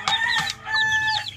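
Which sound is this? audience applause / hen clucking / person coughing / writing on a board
hen clucking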